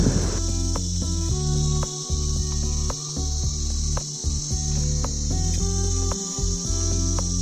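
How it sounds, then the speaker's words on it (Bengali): A loud, dense chorus of crickets trills without pause in a large forest on a hillside, close and steady throughout with no talk. "দেখো এত ঝিঝির ডাক"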